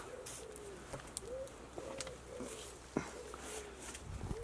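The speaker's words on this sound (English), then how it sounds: "That right, Mr. Wood Pigeon." A wood pigeon coos softly in a steady, repeated rhythm of several phrases, heard from some distance in quiet countryside along an old disused railway line in Donegal.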